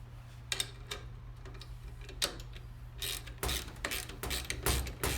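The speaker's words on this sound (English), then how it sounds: "you will next need to use a torque wrench to tighten the bolt down to 350 inch-pounds" A torque wrench tightens a bolt on a furniture leg, giving soft ratcheting clicks and mechanical ticks that grow busier toward the end, all close by over a low steady hum.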